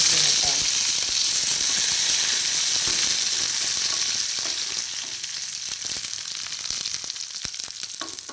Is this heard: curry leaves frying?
yes